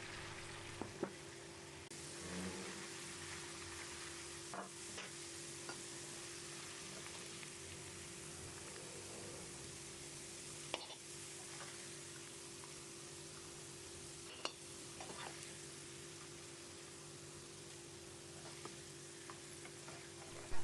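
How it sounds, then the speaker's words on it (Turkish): Potatoes deep fry in hot oil with a faint, steady rain-like crackle and hiss, broken by occasional sharp clicks, with no voices. "Öncelikle patatesleri kızartacağım."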